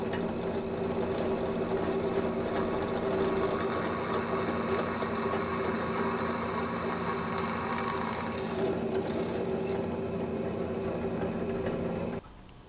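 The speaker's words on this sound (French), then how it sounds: "la fixer adéquatement sur un morceau de panneau de bois et percer les deux en même temps" A steady whirring drill bores through sheet metal clamped to a wood panel, running continuously at an even pitch, then cutting off abruptly near the end, with no talk.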